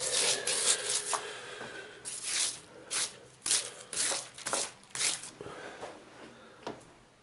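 Thin polythene sheeting cut from cheap bin bags is handled close by, producing a series of soft crinkling, rustling swishes in irregular bursts.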